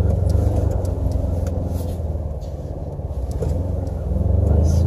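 A Ford Ranger's engine revs steadily under throttle as the truck climbs a stepped off-road hill, a close, sustained mid-pitched rumble that swells near the end, with a voice talking over it.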